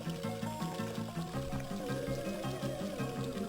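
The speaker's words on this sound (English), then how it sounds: "There's some water music again." Water-themed background music from the GBA game Jimmy Neutron: Attack of the Twonkies, a looping chiptune with a steady repeating bass pattern and a bubbling, watery melody, fairly quiet throughout.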